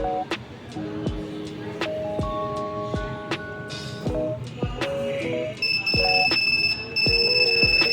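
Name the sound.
Arduino buzzer alarm beeping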